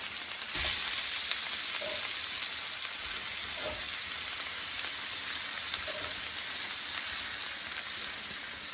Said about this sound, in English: Okay, the meat is browning nicely.